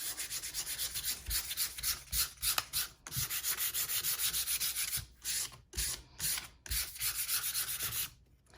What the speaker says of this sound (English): take your sandpaper and go with the grain and just do a really light